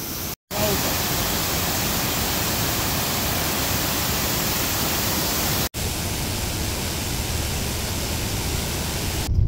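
Steady, loud broadband rush of flowing water, continuous and unbroken, with two brief dropouts.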